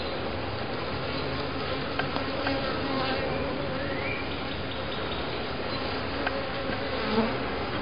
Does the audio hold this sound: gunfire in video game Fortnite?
no